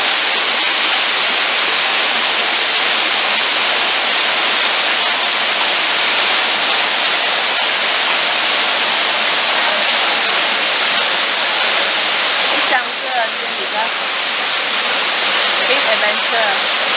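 Loud, constant roar of the waterfall on the Kbal Spean river in Siem Reap, Cambodia, a dense unbroken rush of falling water heard up close with no pauses.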